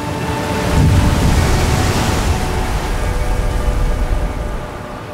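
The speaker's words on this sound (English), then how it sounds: "when you just listen to the sound of the waves" Atlantic ocean waves surge and wash inside Melodic Cave, a loud, continuous broadband roar that swells and eases slightly with a wind-like rush.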